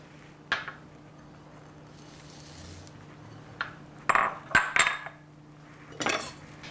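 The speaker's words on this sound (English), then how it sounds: "walnuts, and we need to chop them" Sharp knife taps and clacks on a cutting board, a few isolated chops then a quicker cluster, as nuts and oats are chopped by hand.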